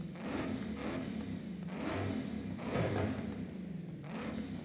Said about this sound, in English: you can rev your car in the festival or the house wherever you're in